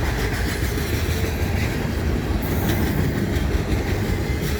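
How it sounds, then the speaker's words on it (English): The tail end of a Norfolk Southern train rolls past a crossing close by, a loud, steady rumble with rhythmic clickety-clack of wheels over rail joints, heard alone. "Comes the end of the train."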